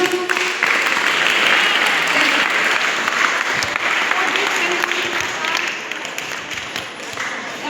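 A school science quiz audience for classes 9 to 12 breaks into steady, dense applause for a correct answer, loud and sustained throughout with a voice faintly underneath.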